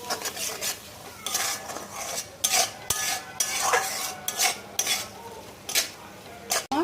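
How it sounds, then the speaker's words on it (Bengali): Ginger-garlic paste being stirred into a tomato-onion masala in a pan: a spoon scrapes and clinks against the metal in repeated strokes under a faint sizzle, close by with no talk. "আদা রসুনটা দিয়েও 2 মিনিট একটু মশলাটার সঙ্গে মিশিয়ে নিচ্ছি।"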